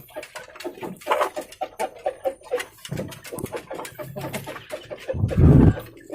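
Chickens cluck in a coop, with short, irregular calls coming close, some louder bursts toward the end, and no talk over them.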